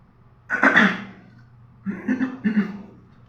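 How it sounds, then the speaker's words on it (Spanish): A man coughing during a Spanish-language sermon, two bursts: one harsh cough, then a pause and a double cough, close and fairly loud with no talk over it. "Mis disculpas por esta tos"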